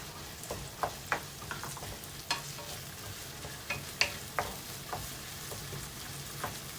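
Tomato stirred and sautéed in a pan for ginisang togue, with a steady close sizzle and repeated scraping stir clicks.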